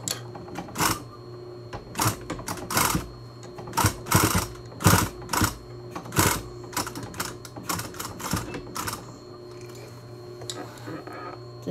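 A sewing machine stitches a fabric mask with a pocket, running in repeated short bursts of rapid mechanical whirring separated by brief pauses, close and fairly loud over a steady low hum.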